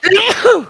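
A single short, sharp sneeze burst lasting under a second, close and fairly loud, during a casual talk show about a Fallout game mod.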